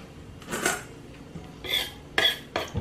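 A knife slices lengthwise through an onion on a cutting board, four separate crisp cuts and knocks landing close by at an uneven pace, with quiet pauses between them.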